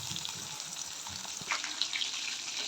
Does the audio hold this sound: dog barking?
no